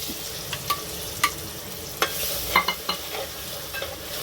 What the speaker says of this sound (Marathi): तर आपण त्याच्यावर टाकतोय आता हे मच्छीचं वाटप.